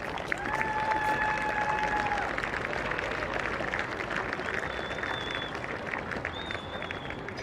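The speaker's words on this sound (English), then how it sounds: "I think a huge round of applause goes to the two teams for a massive game" An audience applauds the two teams after a Champions Trophy final, with sustained dense clapping and crowd noise, some cheering whistles rising above it.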